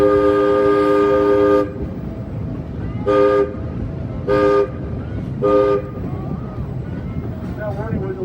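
Georgetown Loop railroad train sounding its warning horn: one long harmonic blast followed by three shorter toots, loud and close, with rumbling rail noise and some background voices underneath.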